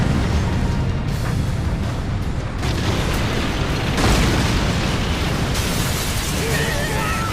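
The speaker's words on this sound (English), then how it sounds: "Bertolt's transformation in mid-air leads to the destruction of Wall Maria" Massive anime explosion from the Colossal Titan transformation in Attack on Titan, a loud, sustained roaring blast with rumbling low-end debris and layered booms, dense and continuous throughout.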